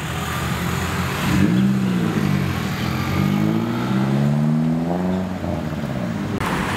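A white Mercedes SLK 200 on AMG wheels drives by in a city street, its engine note rising loud and near, then easing away, against steady traffic noise.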